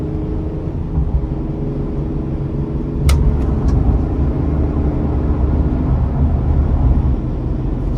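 A Chevrolet Express 2500 conversion van accelerates under throttle, heard from inside the cabin as a steady low engine and road rumble that swells slightly midway, with a brief sharp click partway through.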